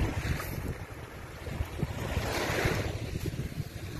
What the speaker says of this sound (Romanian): Uitați, aici e plaja.